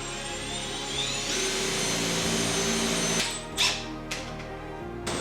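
A power drill whines steadily as it bores a hole for a bolt in a garage 3D printing workstation, loud and close. The motor winds down and stops near the end, followed by a few brief knocks.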